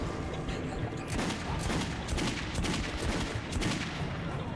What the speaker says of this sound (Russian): Мне показалось, что он стреляет из него, как из пулемета, без перезарядки